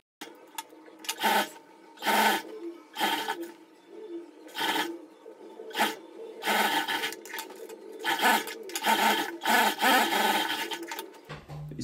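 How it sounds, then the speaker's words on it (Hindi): An electric sewing machine stitches the side seam of an overcoat in a series of short and longer bursts of rapid whirring, with pauses between runs and no talk. "इस तरीके से साइड सिलाई करेंगे"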